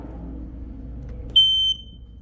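A Canadian i4618ACA smoke alarm under system test gives one loud, piercing tone lasting about half a second, starting sharply over a low room rumble and then stopping.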